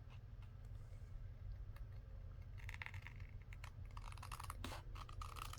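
Short crisp snips trim both ends of a paper tag for a mini paper bag Christmas journal, a few quick cuts clustered in the second half over a steady low room hum.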